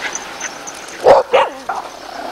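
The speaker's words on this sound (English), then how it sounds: "And here comes our dog." A dog at a holiday spot beside a mill in Bruton, Somerset, giving two or three quick, fairly loud barks close by over faint outdoor background.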